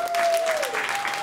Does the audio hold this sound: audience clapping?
yes